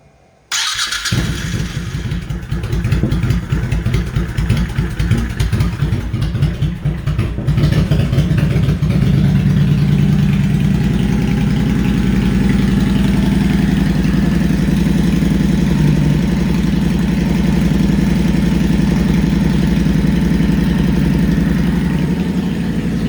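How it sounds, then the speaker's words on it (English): A Honda Shadow 1100 motorcycle engine cranks and catches in the first seconds, then settles into a steady, loud, close idle that runs without a break to the end, with no talking. "then we're going to start the bike up, let it cycle"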